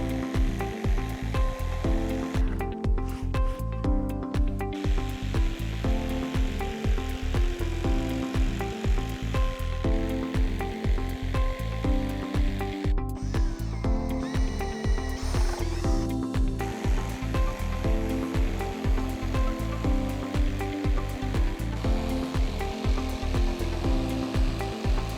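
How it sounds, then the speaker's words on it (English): A power saw cuts notches into a Trex Enhance composite deck board, giving a steady, loud grinding whine with rhythmic pulses that runs without pause for the whole stretch. "So now that we have all the notches marked, it's time to cut them out."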